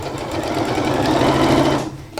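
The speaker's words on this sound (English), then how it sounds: "So I'm just going to sew down here." A sewing machine stitches fabric in one continuous, close burst of fast, even needle chatter and motor hum, stopping abruptly near the end.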